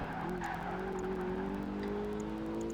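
Car tyres slide and squeal continuously in Project Gotham Racing 2 during a roadster race, a sustained rising screech over a steady engine drone with faint ticks.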